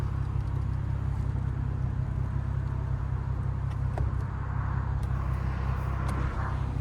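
A 2015 Ford Mustang with a 3.7-litre V6 driving with the windows down: a steady low engine drone and road rumble, constant and fairly loud, with faint clicks and wind noise above.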